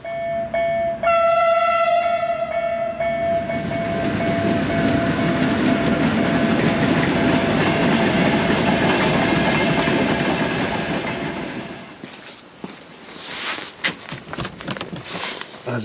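A train at a cold, dark railway station in Lithuania sounds a long, loud horn, then rumbles steadily past close by before fading into scattered clanks and thuds.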